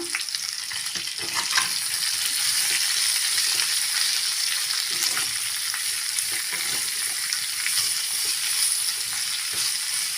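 Raw banana fry (vazhakkai varuval) is stirred with masala and salt in a hot pan. A steady sizzle fills the clip, broken by repeated close scraping and clinking strokes from the stirring spoon. No one speaks.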